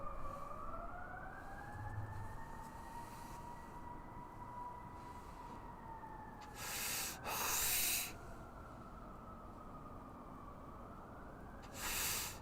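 Emergency vehicle sirens wail in the distance with slow rising and falling tones, joined by brief bursts of louder noise.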